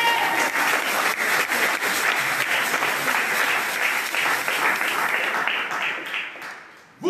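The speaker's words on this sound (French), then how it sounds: "Est-ce qu'on peut acclamer cette vie-là?" A church congregation claps and cheers together during an evangelistic service, steady dense applause sustained for several seconds before tapering off near the end.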